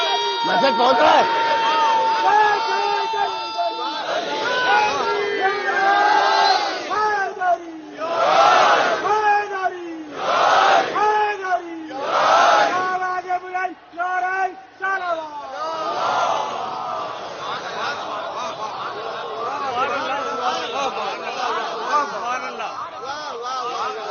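A large crowd at a Muharram majlis gathering shouts the Naara-e-Haidari slogan in repeated loud bursts of voices. Rhythmic call-and-response swells stand out at first, then settle into a sustained collective roar.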